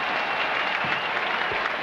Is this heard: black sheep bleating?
no